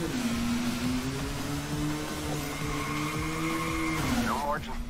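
A Hot Wheels video game car engine whines steadily at high pitch, close and loud, with a tire squeal or screech near the end as it bumps along a wall ramp.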